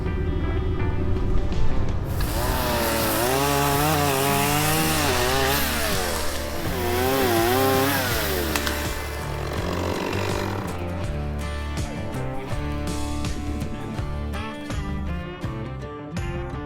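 A nearby chainsaw drones and revs loudly, its engine pitch rising and falling as it cuts through a fallen tree.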